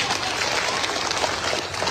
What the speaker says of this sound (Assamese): আৰু এটা হাত তালি বজাবলৈ অনুৰোধ কৰিম মই সকলোকে